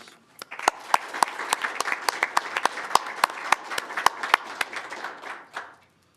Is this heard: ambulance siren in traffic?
no